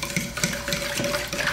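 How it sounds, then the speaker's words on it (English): Soy sauce and sugar jerky marinade is mixed in a bowl, giving a steady run of soft scraping and sloshing stir strokes, close up and moderately quiet, with no voices. "So we mix it real good."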